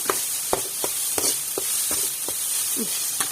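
Chutney frying in hot coconut oil: a continuous sizzle punctuated by repeated sharp scraping stirs at a fairly regular pace, close and clear with no talking.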